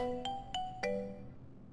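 A phone ringtone chimes three times, each a bright, ringing electronic tone with a clear pitch that fades out, sounding in a quiet room before trailing off.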